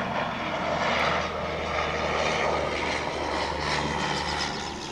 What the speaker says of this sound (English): I'm waiting for an airplane to come.